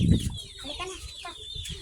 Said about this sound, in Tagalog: ito ang mga alaga ni Mama. Yan o, sisiw, ang cute.